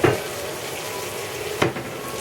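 Blackened salmon sizzles steadily in a hot pan, with a soft scrape and clatter at the start and again near the end as the fillet is turned over; close and fairly quiet, with no talking.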